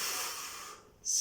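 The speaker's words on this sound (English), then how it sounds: "Breathing in" A person draws a breath in while holding a Copenhagen adduction exercise on a bench, a steady airy inhale that fades briefly, then resumes close and fairly loud.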